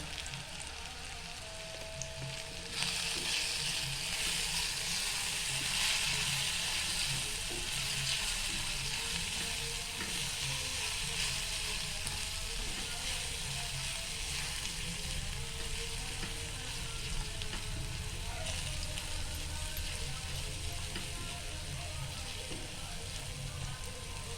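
Cumin, coriander and chili powder sizzle steadily in a hot pan of oil for egg rice, a continuous loud frying hiss with a brief stir-like change near the start and no speech.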